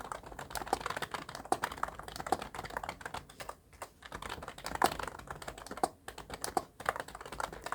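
Fingers type steadily on a computer keyboard, a quiet close run of rapid key clicks with irregular rhythm and an occasional heavier keystroke, with no talking.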